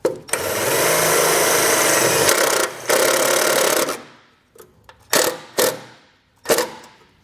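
A power tool drives a self-tapping screw in to ground a wire for a Curt T-connector trailer wiring harness on a 2023 Toyota, one loud close whir for about four seconds followed by several short bursts.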